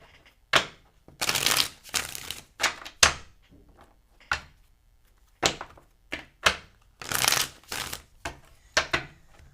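Cards being shuffled in several quick riffling bursts, each a crisp flurry of snapping, with short quiet gaps and soft taps between.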